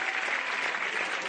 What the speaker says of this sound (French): mesdames et messieurs, on applaudit Daniel